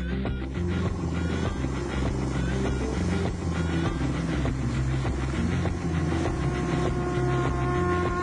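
A motorcycle is ridden through Khiriwong village in Thailand. Its engine makes a steady, close, humming drone that runs the whole time without pauses, with no voices over it.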